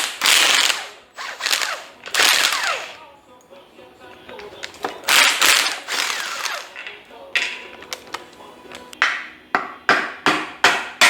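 A ratchet wrench clicks in quick bursts of pawl ratcheting on a stuck engine bolt, close by and loud, with pauses between strokes and a faster run of short clicking bursts toward the end.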